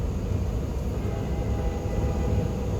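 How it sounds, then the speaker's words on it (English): A train rumbles past near a truck route, a steady, loud low-pitched roar with broadband rail noise that holds evenly throughout without fading. "It sounded like a train."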